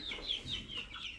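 Hens clucking close by in a short burst of repeated, fairly loud calls, with no one talking.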